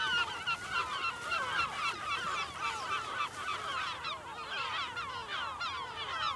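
A dense chorus of gulls calls from a nesting colony on the highest part of a bird island, with many overlapping cries running continuously and fairly close, and no voices.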